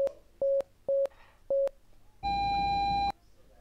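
Morse code beeps spelling hi in a Roblox game: four short, evenly spaced tones followed by a longer beep with a buzzy edge, clean and alone with no talking.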